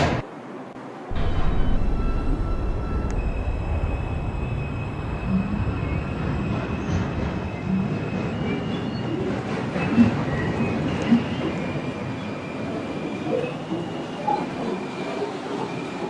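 A Bronx-bound New York subway 4 train rolls through the tunnel, its loud steady rumble of wheels and car noise rising as it pulls away, with faint squeals and rattles over the roar.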